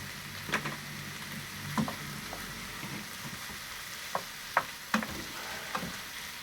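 Small shrimps fry in a pan for special fried rice with home-cooked ham, a low steady sizzle broken by a few short clinks and stirring knocks, fairly quiet and close with no talking.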